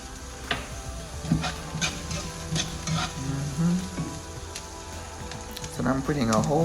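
Fresh garlic sizzles softly in hot oil for a chickpea curry, a quiet steady frying hiss with a few stirring taps, while a voice talks over it near the end.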